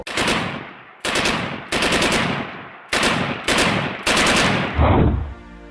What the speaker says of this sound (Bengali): কিন্তু হঠাৎ হঠাৎ গুলির শব্দ।